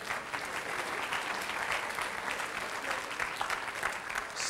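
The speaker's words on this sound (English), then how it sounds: "First, most powerful round of applause for you." Sustained applause from a lecture-hall audience at a college speaker series, a steady dense clatter of many hands clapping without a break across the whole stretch, with no speech over it.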